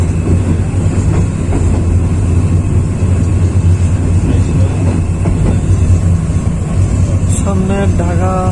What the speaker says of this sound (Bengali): আপাতত মহানগর এক্সপ্রেস ছাড়লো